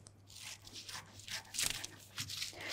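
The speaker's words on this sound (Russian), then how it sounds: "И сейчас я вырезаю." Scissors cut out a pattern in leopard-print silk fabric for a cocktail dress, giving soft intermittent snipping and crisp crunching bursts with rustling in between, close and fairly quiet, with no talking.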